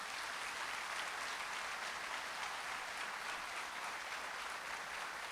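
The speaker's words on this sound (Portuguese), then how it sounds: "Pode aplaudir, pode aplaudir." Steady applause from a congregation at a Catholic mass, a dense even patter of many hands clapping together that holds at a constant level throughout, with no voices over it.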